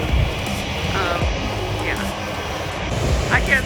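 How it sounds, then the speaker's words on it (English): An Air France jet airliner powers up for takeoff beside Maho Beach in St. Maarten, a steady loud roar of engine thrust and blast filling the air, with a brief spoken word near the start. "we have an Air France that is going to take off. That is going to create some crazy jet blast"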